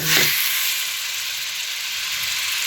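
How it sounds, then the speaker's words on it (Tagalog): Ground meat frying in a little oil for sopas, a loud, steady sizzle up close that starts with a brief clatter as the meat hits the pan, then hisses on evenly without pause. "Piniprito ko sa konting mantika."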